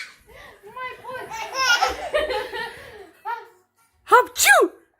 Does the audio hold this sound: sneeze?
yes